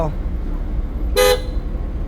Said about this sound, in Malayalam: നമുക്ക് ഇവിടുന്നൊക്കെ ഓൺ അടിക്കാം